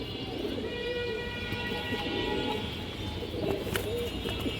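A black-tailed Hurricane-breed pigeon coos softly and steadily against a constant background hiss, the low, rolling calls continuing throughout.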